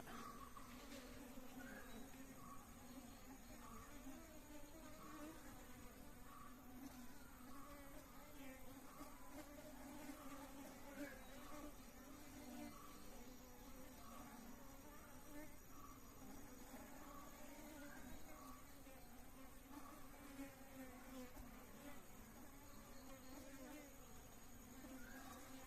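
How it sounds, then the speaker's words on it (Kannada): Male honeybees (drones) fly around a bee box, making a continuous, faint, droning buzz with a steady pitch throughout and no clear talking. "ಯಾವ ರೀತಿಯಲ್ಲಿ ಹಾರತಾ ಉಂಟು ನೋಡಿ ಗಂಡು ನೊಣಗಳು"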